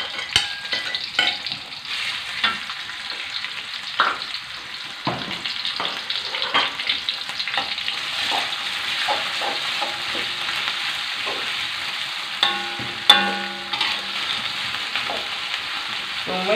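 Shallots, ginger and garlic sauté in a pan with a continuous bright sizzle, punctuated by repeated spatula stirs and scrapes throughout, close and without speech.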